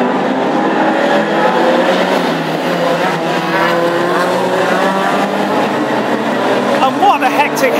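Classic hot rod Escort race cars roar past in a pack at a Lochgelly Scottish Open Championship final, engines droning loud and continuous under an excited commentator's voice.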